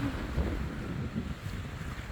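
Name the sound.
wind blowing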